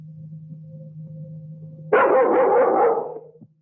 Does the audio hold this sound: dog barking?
yes